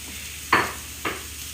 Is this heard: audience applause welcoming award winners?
no